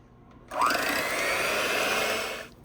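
An electric mixer whirs steadily through pumpkin pie filling made with cream cheese. It starts abruptly and rises briefly in pitch, then holds a loud, continuous motor hum for about two seconds before cutting off.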